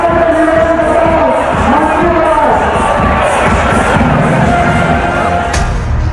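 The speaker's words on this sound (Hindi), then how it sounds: "हजारों हिंदुओं की भीड़ रामनवमी की शोभा यात्रा में शामिल है" A huge crowd at a Ram Navami procession on a Hyderabad road roars and cheers without a break, loud and close, with shouts and whoops over a dense wall of noise.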